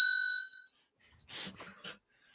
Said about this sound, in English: I guess we gotta have the bell.